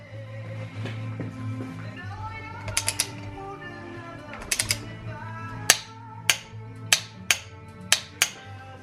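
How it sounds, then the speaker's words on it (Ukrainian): A nut is tightened on a Yamaha Drag Star 1100 engine during reassembly, a wrench giving a sharp, regular series of metallic clicks after earlier short bursts, with some voice and tonal sound in the first seconds. "Затягуємо цю гайку"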